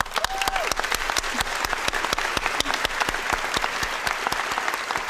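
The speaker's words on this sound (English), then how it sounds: "I would really like to give you all a round of applause" Audience at a nurses' pinning ceremony gives a round of applause, dense sustained clapping from a hall full of people, loud and even throughout with no talking.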